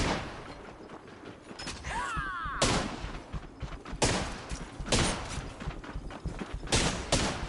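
Gunfire in a game, sharp loud bursts of shots cracking at irregular intervals over a busy background, with a whooshing sweep early on.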